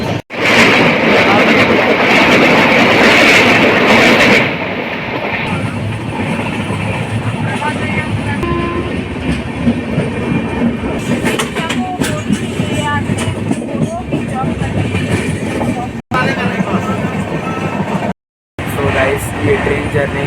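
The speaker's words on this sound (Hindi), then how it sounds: "तो गाइस ट्रेन खुल चुका है।" A passenger train leaving Durg for Kalyan rumbles steadily with a loud, continuous rolling drone heard from inside the carriage, a louder burst at the start and brief dropouts later.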